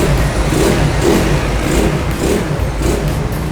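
A Yamaha Mio scooter with its engine bored up to 160cc runs loud and close, holding a steady, dense revving drone with slight rises and falls and no pauses.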